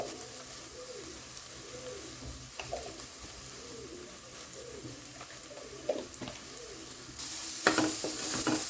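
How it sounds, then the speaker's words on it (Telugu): Spices fry in a pan for Andhra-style egg and potato curry, a soft steady sizzle with occasional stirring scrapes, while a dove coos rhythmically in the background. "అన్నీ బాగా మిక్స్ చేసుకోవాలి."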